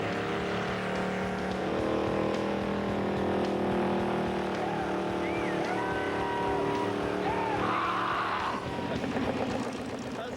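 A custom Monster Garage gravedigger vehicle's engine exhaust rumbles steadily and fairly close for the whole stretch, with faint background voices and noise mixed in.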